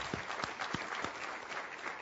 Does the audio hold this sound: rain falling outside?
no